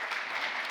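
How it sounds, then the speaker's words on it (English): Audience applause at a symposium welcoming speakers, a brief, steady wash of many hands clapping at moderate distance, fairly quiet and without talk. "Please give them a warm welcome of applause."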